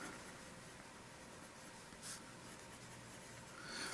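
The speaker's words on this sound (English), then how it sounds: "when you start writing with it, it is a smooth nib" Steel medium nib of a Platinum Prefounte fountain pen writing on paper, a faint, close, continuous scratchy rustle with a couple of small ticks.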